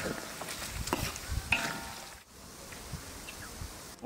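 Pork lard rendering with ginger added in a pan, giving a faint, steady crackling sizzle with stirring scrapes through the first half, quieter after a brief pause.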